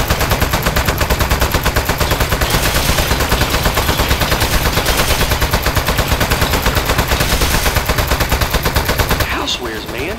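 A turret in Aperture Desk Job lets off rapid continuous automatic fire, loud and unbroken for about nine seconds before it stops abruptly.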